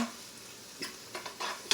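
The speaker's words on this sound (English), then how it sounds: "I'm actually going to saute the spinach now in with the vegetables." Spinach being stirred into sauteing vegetables in a pan, with soft sizzling and a few light scrapes and clinks of a utensil against the pan, quiet and close with no talk.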